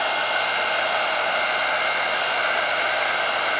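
A hair dryer blows cell activator across acrylic pour paint, a loud, continuous, even rushing whir held for the whole stretch with no pauses or speech.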